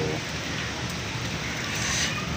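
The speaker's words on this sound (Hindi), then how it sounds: "बारिश पड़ रही है अभी।" Rain falls steadily in a dense, even hiss of drops that holds at the same level throughout.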